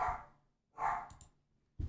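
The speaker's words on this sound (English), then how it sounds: "Stupid dog." A dog barks twice, close and fairly loud, short sharp barks separated by a pause, with a third bark beginning at the end and quiet surroundings between.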